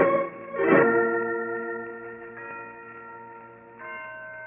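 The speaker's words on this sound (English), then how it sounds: "Listen to those bells, Holmes." Historic church bells ring from a bell tower, a strong clang near the start followed by long, sustained overlapping tones that hum and decay, with a fresh strike joining later, no voices.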